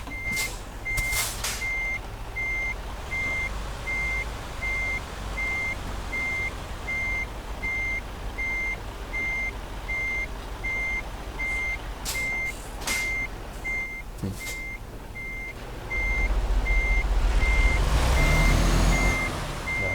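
A truck in American Truck Simulator backs up at a gravel pit in Nogales, its reversing alarm beeping in a steady, evenly spaced rhythm over a low engine rumble, with a burst of heavier engine noise near the end.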